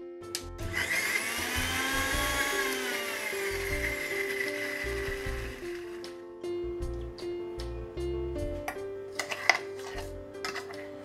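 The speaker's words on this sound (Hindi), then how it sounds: "और बस अब इसको सीधा हम ब्लेंड कर लेंगे" A kitchen blender whirs through an egg salad dressing made with milk, a steady motor drone for several seconds that then stops, followed by clinks and taps of utensils and the jar.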